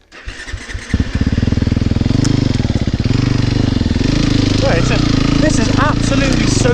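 A four-stroke enduro motorcycle engine starts up and settles into a loud, close, steady throbbing idle with slight revs, heard alone without talk during hard enduro riding.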